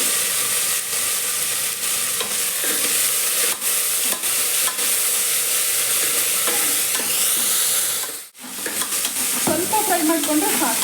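Fenugreek and coriander leaves are stir-fried in a pan, giving a steady close sizzle broken by scraping and tossing strokes, with a short drop in sound near the end before the frying resumes.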